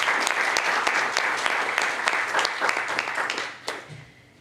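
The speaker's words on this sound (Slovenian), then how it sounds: "dajmo pa en aplavz še za to nagrado" Audience at a Slovenian award ceremony gives a warm burst of applause for a prize winner, dense hand clapping that holds steady, then thins out and fades over the last second.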